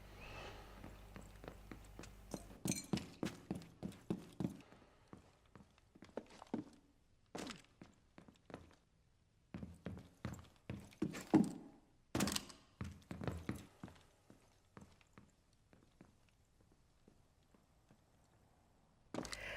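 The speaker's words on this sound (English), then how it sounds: "running with silent step makes much more noise than crouching with silent step, of course." Quiet, soft footfalls from a Rainbow Six Siege operator using silent step, first running in quick dense bursts and then crouch-walking in sparser, gentler steps, all faint and close with no talking.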